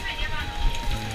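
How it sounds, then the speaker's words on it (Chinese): Heavy rain falls steadily in Jiufen, Taiwan, a dense, even hiss of drops on surfaces that runs unbroken through the short stretch, with a faint murmur of background voice. "那个今天下大雨啊"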